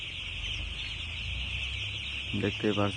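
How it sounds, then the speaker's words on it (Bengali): Chickens on a poultry farm at feeding time give a few clucks toward the end over a constant high-pitched hum of farm noise, faint and fairly close. "এই যে মুরগি কিন্তু এতক্ষণ খাদ্য পানি খাইছিল না, এখন আবার খাদ্য পানি খাইতেছে"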